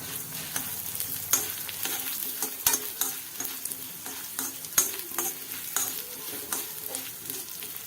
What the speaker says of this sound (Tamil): ஒரு 7 மிளகாய் வத்தல், அதையும் சேர்த்து நல்லா வறுத்துக்கலாம்